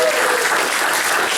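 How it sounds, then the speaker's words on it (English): Big round of applause from a school audience, a dense, continuous burst of crowd clapping throughout the short moment. "So give him a big round of applause."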